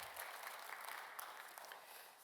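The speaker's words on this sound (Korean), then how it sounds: "여러분께 박수로 환영하시죠." A church congregation applauds to welcome newcomers during a Sunday worship service: a steady, moderately distant patter of many hands clapping together for a couple of seconds.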